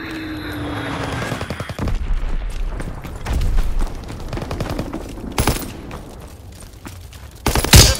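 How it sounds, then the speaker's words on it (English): A Fritz X bomb strike lands amid battle in a war video game, with rattling machine-gun fire and scattered shots building to sharp heavy booms near the end, loud and close. "Fritz X bomb mission underway. Enemy bomb incoming."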